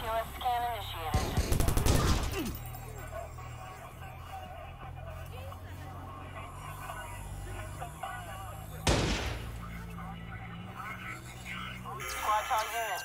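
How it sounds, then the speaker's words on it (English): Gunfire in Watch Dogs rings out in sharp loud bursts, a cluster early on and another single heavy crack later, over a steady bed of radio chatter and people talking. "Some guy is shooting here."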